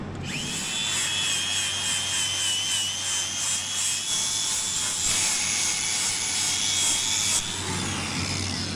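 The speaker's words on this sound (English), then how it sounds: "You want the grinder to run this way and not this way." An angle grinder smooths a cut-off shock tab on a junkyard axle, a loud continuous high whine with steady grinding hiss that runs unbroken and close, easing slightly near the end.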